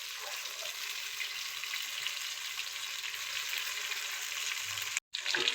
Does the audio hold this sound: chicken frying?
yes